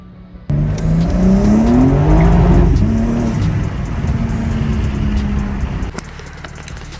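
A BMW M4 G82 breaks into wheelspin on a cold surface, its loud exhaust roaring up through rising revs with tire squeal, close and intense for several seconds before cutting off.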